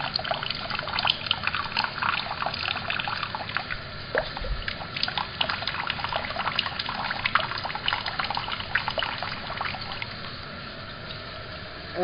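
Hot water trickles steadily out of a still's reflux condenser, a continuous close splashing and dribbling with no voices over it.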